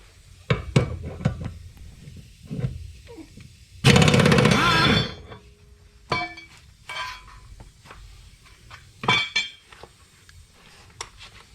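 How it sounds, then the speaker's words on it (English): Impact wrench with a 15/16 socket taking the blades off a 60-inch Toro Grandstand mower deck, a single loud rattling burst of about a second amid scattered metallic clinks and knocks. "I'm going to use the socket 15/16 with this impact."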